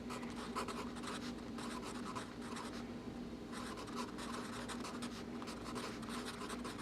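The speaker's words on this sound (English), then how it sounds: "I'm going to write a sentence for that." Pen or pencil scratches softly across paper as a sentence is handwritten for a math worksheet. Faint, continuous rubbing strokes come in two bursts with a brief pause between, and no voices.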